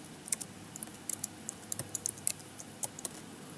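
Computer keyboard typing while code is being entered, a run of light, irregular key clicks at close range with short pauses between bursts, no voice present.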